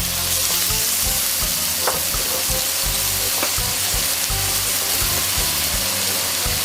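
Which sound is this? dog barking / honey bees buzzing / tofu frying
tofu frying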